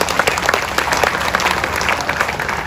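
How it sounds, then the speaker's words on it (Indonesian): An audience at a children's puppeteer festival opening in Jakarta claps steadily and loudly, a dense continuous round of applause filling the whole moment with no talk over it. "Beri tepuk tangan untuk Pepadi kita."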